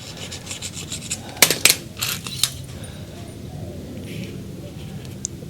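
A screwdriver tip scrapes and rasps across a watch, making a few sharp close scratching strokes in quick succession followed by lighter rubbing.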